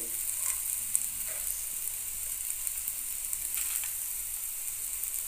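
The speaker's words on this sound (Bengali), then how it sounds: "ফুলকপির ডাঁটার ছেচকি প্রায় ভাজা হয়ে এসেছে" Cauliflower stem chechki fries in a pan over medium heat, giving off a soft, steady sizzle with a few faint stirring scrapes and no voices.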